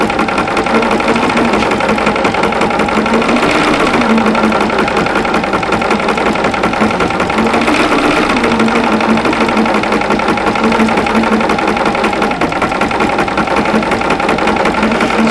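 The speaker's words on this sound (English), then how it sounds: "So this is actually quilting. It's quilting through all three layers as it stitches." An embroidery machine quilts a stocking design through three layers, a steady, loud, fast mechanical stitching chatter that runs continuously with no talk.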